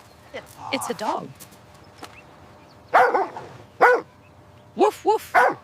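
A dog gives a few sharp barks and yips in short bursts separated by pauses, close and fairly loud, with some other voice-like sounds mixed in.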